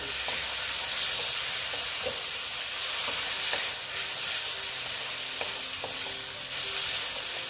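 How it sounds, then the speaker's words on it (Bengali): Par-boiled potatoes stir-fried in a pan with spiced masala for Bengali egg curry, a continuous loud sizzle and hiss with intermittent spatula clinks and stirring scrapes throughout. "আলুগুলো দিয়ে দিচ্ছি। আলুগুলো এটার সঙ্গে ভালো মতন কষিয়ে নিচ্ছি।"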